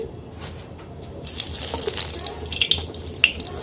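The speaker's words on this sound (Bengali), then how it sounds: "একশো গ্রাম বাদাম একই তেলের মধ্যে ভেজে নিচ্ছি" A hundred grams of peanuts frying in the same hot oil used for chana dal; a soft background hiss swells into a bright, steady sizzle with scattered crackles and pops, no talking.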